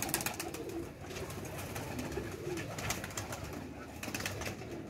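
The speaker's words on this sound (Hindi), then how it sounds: "ये जो है फीमेल है, टैडी कबूतरी है" A female teddy pigeon cooing softly in a series of low, throaty calls, with faint clattering and background noise around them.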